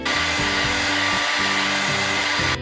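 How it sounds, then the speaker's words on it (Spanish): A hair dryer blows steadily at close range, drying chalk paint on a recycled plastic container, a loud continuous airy roar with slight wavering as it moves, stopping right at the end. "secar con secador de cabello"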